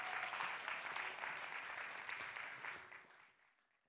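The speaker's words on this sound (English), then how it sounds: "To some applause, if possible." Applause from the audience at a FameLab science-communication semi-final, a full crowd clapping steadily and then tapering off to quiet over the last second.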